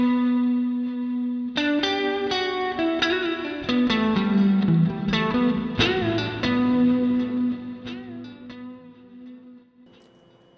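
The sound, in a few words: reverb and delay effect on Empress Zoia pedal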